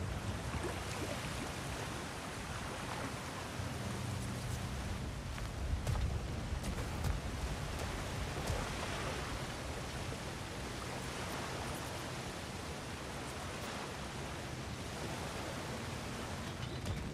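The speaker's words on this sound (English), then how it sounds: "Sounds like you got the water moving along, brother" Steady rushing water flows through a mine in God of War Ragnarök, a continuous broadband wash at even loudness with no voices.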